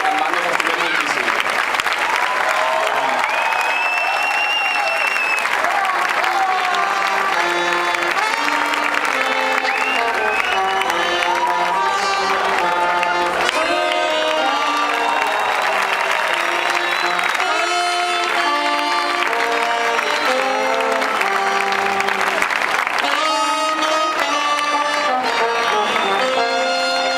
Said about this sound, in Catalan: Així que, sisplau, un fort aplaudiment.